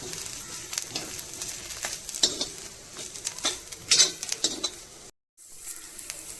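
Dry scraping and stirring of chicken liver dry-roasting in a pan on a slow gas flame, with a faint sizzle and small clinks of a spatula against metal, steady and close, with a brief silent gap near the end.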